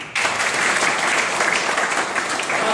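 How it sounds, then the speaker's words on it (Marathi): Audience applause at a youth group get-together in Sangli, Maharashtra, a burst of many hands clapping that starts abruptly and holds as a dense, even, fairly loud roar throughout. "एकदा याच्यासाठी टाळ्या होत्या"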